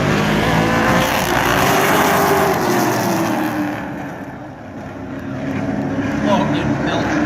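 Pro Stock race cars roar at Wiscasset Speedway, a dense, steady engine drone that dips briefly midway and swells again, with track commentary running over it.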